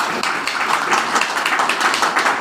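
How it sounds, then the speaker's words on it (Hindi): Dense applause from a crowd at a talk, many hands clapping together in a steady, continuous wash that stays loud and close throughout. "जोरदार ताली होनी चाहिए ना"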